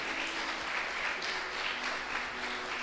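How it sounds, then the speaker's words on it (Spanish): A church congregation applauds during a Sunday morning service, dense even clapping that holds steady throughout, with a faint sustained tone beneath it. "Dele un gran aplauso al Rey de Gloria en esta mañana"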